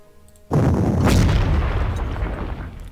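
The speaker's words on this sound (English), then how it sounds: "Let's have some artillery strikes on the infantry." Artillery strikes in the Panzer Corps Gold wargame land as a sudden heavy boom that swells into a long, rumbling roar of explosions and slowly fades over a few seconds.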